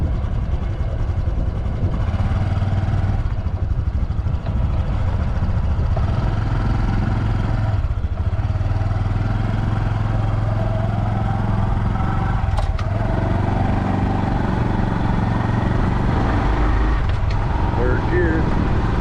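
A Honda Super Cub motorcycle ridden around a lake, its small engine droning steadily and loudly through the ride under wind noise, with someone talking over it.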